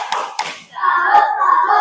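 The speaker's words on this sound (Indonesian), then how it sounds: "Tepuk salut dulu untuk Evan." A classroom group does a rhythmic salute clap together, a few sharp hand claps and taps followed by a sustained patter of hands, with children's voices chanting along.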